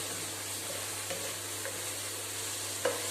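Masala with fresh coriander leaves being sautéed in a pan, a low steady sizzle with a few soft stirring scrapes, quiet and close, no talking.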